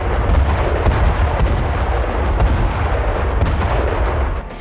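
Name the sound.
artillery bombardment in southern Lebanon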